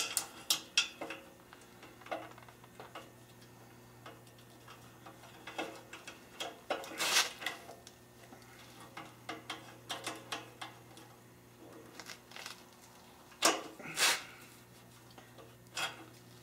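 A wrap-around cutter scoring exhaust tubing to take off a flange: faint, scattered ratcheting clicks and tool ticks, with occasional sharper metallic scrapes and brief handling noises, no talk.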